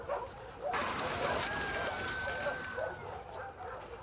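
A dog's barks and yips from The Last of Us Part II, close and moderately loud over an ambient game background, with a character talking to the dog.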